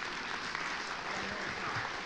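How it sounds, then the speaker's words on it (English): A congregation at an Easter church service gives a warm round of applause, a continuous, fairly distant wash of many hands clapping at a steady level with no talking over it. "Just give him a round of applause because he might be nervous."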